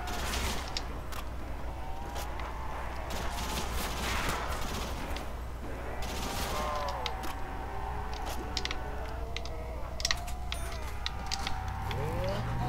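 Rapid automatic fire from an F2000 rifle in World at War custom zombies, on the Hotel map, with repeated sharp bursts running steadily throughout, layered with game sounds and a voice talking over the action.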